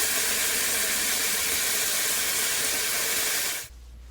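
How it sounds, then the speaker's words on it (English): A snack sizzling in a frying pan gives a steady, bright hiss at close range for several seconds before cutting off abruptly near the end. "Making a snack from the frying pan is a sizzling 81 decibels"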